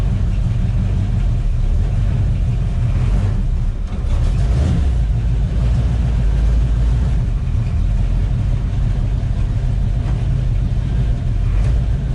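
Car with a freshly swapped TKO-600 manual transmission being driven, a loud continuous engine rumble with a few rises in revs, heard from inside or close by with no talk.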